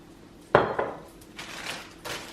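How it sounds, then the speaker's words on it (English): A cooking pan being handled on a kitchen stove before olive oil goes in: a sharp metallic clank, followed by a few lighter knocks and scrapes of metal on a hard surface, close and without talk. "we're gonna take this pan, take a little bit of olive oil on the pan"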